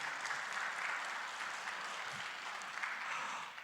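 Scattered applause from a church congregation at a special service, a soft, steady patter of many hands heard at a distance and fairly quiet throughout.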